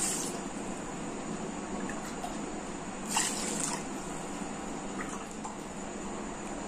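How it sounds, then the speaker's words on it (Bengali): Gobindobhog rice being washed in water and drained gives a steady, soft wash of running and sloshing water, close and fairly quiet, with a brief louder splash partway through and no talking. "এবার আমি চালটা ভালোভাবে ধুয়ে জল ঝরিয়ে রেখে দেব।"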